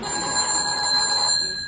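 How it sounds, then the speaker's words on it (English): An old-style telephone bell rings continuously with a steady, bright trill, loud and close, with no voices over it. "Answer the phone, Anthony."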